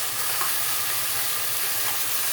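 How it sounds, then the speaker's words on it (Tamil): Ground tomato paste sizzles steadily in hot oil for a fish curry, a continuous, fairly loud hiss heard alone with no talking. "இப்போ தக்காளி போட்டுக்கலாங்க."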